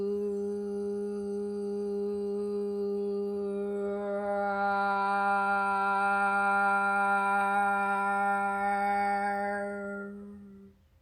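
A sustained soft vocal tone, a low hummed "vu" merged with an imitated big cat roar, held steadily and swelling brighter and fuller toward the middle before fading at the end; a single voice alone, imitating the roar.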